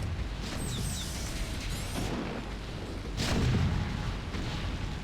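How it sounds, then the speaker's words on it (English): Siege tanks in a StarCraft match trade fire from ridges, a steady rumble of booming artillery shots with a heavier burst of explosions midway, loud and continuous with no talking. "And right now they are shooting to each other from these ridges."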